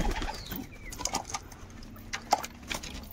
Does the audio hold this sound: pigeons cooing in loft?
yes